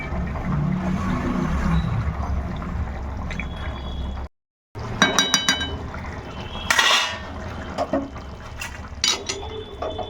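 Koi fish simmer in a curry with taro stems, liquid bubbling and splashing while a utensil clinks against the pan. There is a brief silent gap partway through.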